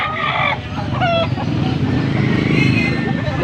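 Young roosters, stags around eleven months old, cluck and crow at a chicken market in Angeles, Pampanga, loud and close, with several crow-like calls early on over a steady crowd murmur and talk.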